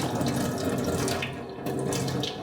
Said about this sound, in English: Next, I'm going to wash the sticky rice. I wash this for 2 or 3 times.